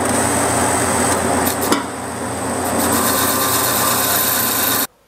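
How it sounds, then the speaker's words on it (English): A dual drum sander grinds a tungsten electrode spun in a drill, a continuous harsh abrasive whir with a brief scraping catch midway, loud and close, then cutting off abruptly near the end. "I'm gonna go ahead and use my dual drum sander, which is kind of overkill"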